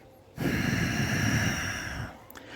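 A forceful exhale rushes out through nose and throat, close and rough, sustained for nearly two seconds before tapering off.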